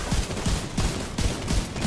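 Video game gunfire aimed at a boss, a rapid stream of loud, close shots in quick bursts with short gaps between them.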